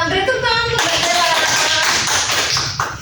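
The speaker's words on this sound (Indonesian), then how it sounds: "Beri tepuk tangan untuk Mbak Dela." Students in a classroom give a short round of applause for a classmate, with dense, steady clapping from many hands lasting about three seconds, close and fairly loud, with some voices in the room.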